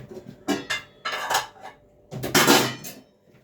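Small metal frying pan handled in a home kitchen, a few close clanks and scraping clatters in irregular bursts with quiet gaps between.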